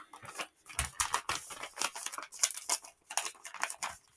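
Crisp paper crinkling and tearing as a chunky paper envelope from a Missouri Star Quilt Company advent calendar is opened, a quiet close-up run of irregular rustles and rips.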